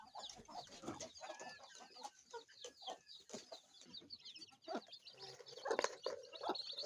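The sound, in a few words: chickens clucking while scrambling for feed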